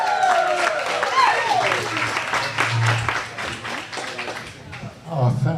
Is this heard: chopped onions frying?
no